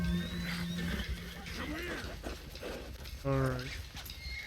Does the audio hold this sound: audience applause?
no